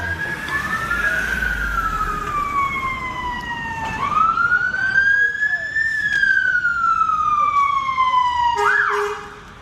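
Fire engine siren wailing as the truck arrives at a house or garage fire, loud and close, with the tone sweeping slowly up and down before a short horn toot at the end.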